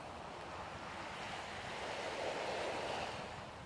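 Waves wash in Nassau Harbor as ships depart, a steady broadband rush of surf and wind that swells slightly in the middle, with no voices.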